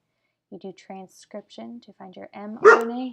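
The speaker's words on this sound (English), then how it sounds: "Oops, sorry, that was my dog." A dog barks once, short and fairly close, cutting in over a person speaking steadily during a biology lesson.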